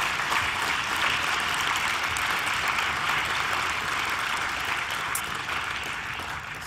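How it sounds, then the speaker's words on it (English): An audience applauds steadily at a conference opening ceremony, a dense, even wash of clapping from a large hall that slowly fades toward the end. "I would like to let you applaud Phil for his dedication"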